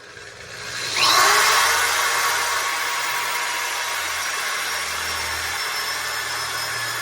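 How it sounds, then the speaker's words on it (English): A power drill bores a pry hole into a wooden cabinet filler panel, spinning up sharply at about one second and then whirring steadily until the end, close and loud, with no talk. "drill a pry hole"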